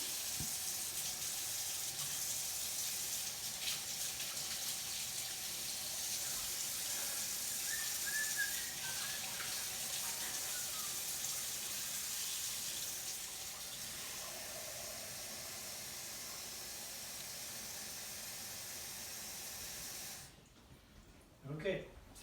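Tap water runs steadily into a bowl for no-knead bread dough, a long continuous hiss that cuts off abruptly near the end.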